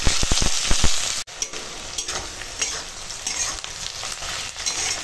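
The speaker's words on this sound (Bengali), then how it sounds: "পেঁয়াজটা ভেজে নেব" Onion frying in oil in a home kitchen, opening with quick utensil clinks, then a steady hissing sizzle with irregular crackles and pops as it is stirred.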